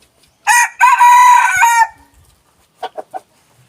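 A gamecock rooster crows twice in close succession, loud and near, the second crow long and trailing off, followed by a few short soft clucks with no talk.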